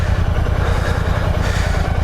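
The 650cc Royal Enfield Classic 650 motorcycle engine runs with a loud, steady low thump and rumble, close by and continuous, with no talking over it.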